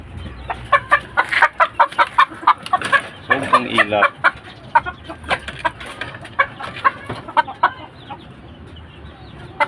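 A skittish, wild-natured chicken clucks close and loud in a series of sharp repeated calls, with one longer drawn-out squawk partway through and no talk.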